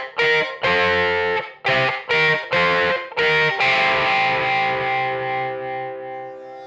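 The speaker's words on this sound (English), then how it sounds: "One of them is a solid electric ukulele." A solid electric ukulele played through a distortion pedal gives loud, fuzzy chopped chords, several quick strums in a choppy rhythm, then a final chord left ringing that slowly decays.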